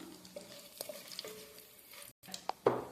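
Whole spices drop into hot ghee and oil for a vegetable dum biryani, giving light stirring scrapes and then a brief, sharp sizzle that bursts up near the end, close and moderately loud.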